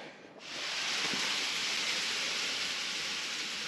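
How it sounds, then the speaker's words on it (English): Tiny hail or rain patters steadily on a post frame building, a dense, even hiss that swells in after a brief quiet start and holds constant throughout. "it sounds like it's raining, but I can't see anything. It's got to be like a real tiny hail or something."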